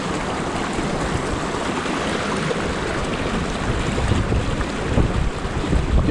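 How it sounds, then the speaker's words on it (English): Steady, loud wind gusts roar across the microphone in a snowy Pennsylvania forest during a snowstorm while fly fishing for native brook trout, broadband and continuous, swelling slightly toward the end. "Getting a little breezy."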